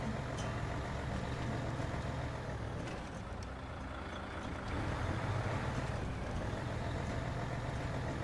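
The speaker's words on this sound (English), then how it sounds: "I do like the engine sound." Mercedes truck engine in a driving video game, pulling a trailer: a steady low diesel drone with a rumbling idle-like texture, loud and continuous throughout with no talk over it.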